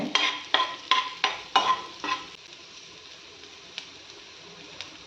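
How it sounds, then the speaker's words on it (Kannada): Ginger and garlic fry in butter in a pan with a soft, steady sizzle, opened by a quick run of about six sharp scrapes or taps of a spoon, then a few sparse clicks over the hiss. "ಫ್ರೈ ಆಗ್ತಾ ಇದೆ, ಅದು ಒಳ್ಳೆ ಸ್ಮೆಲ್ ಬರ್ತಾ ಇದೆ ಈಗ ಶುಂಠಿ ಬೆಳ್ಳುಳ್ಳಿದು ಮತ್ತು ಬಟರ್ದು"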